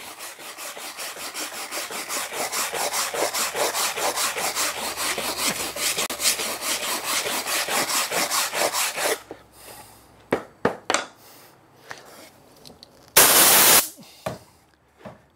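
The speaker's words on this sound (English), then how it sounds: "you can use a wire brush, which will remove" A wire brush scrubs hardwood grain in fast, rhythmic back-and-forth strokes for about nine seconds, then scattered lighter scrapes and a short burst of harsh noise follow.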